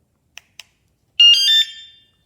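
A wsdcam 113 dB wireless motorcycle and bike alarm being armed gives two short clicks, then a loud, bright electronic chirping tone lasting under a second before tailing off, heard alone and close.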